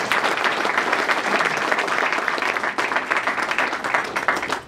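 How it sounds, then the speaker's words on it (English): Audience at a Sister Cities International 60th anniversary celebration applauds the event planning team, a full, steady wash of clapping that thins slightly near the end. "deserve a round of applause just for putting this event on"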